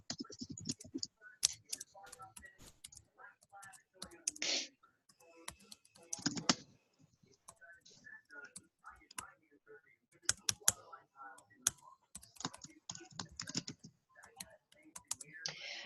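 Typing on a computer keyboard: bursts of rapid, close key clicks with short pauses between runs, fairly quiet.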